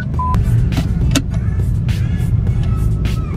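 A BMW F80 M3 being driven, giving a steady, loud low engine rumble with a few light clicks and whirs on top and no talking.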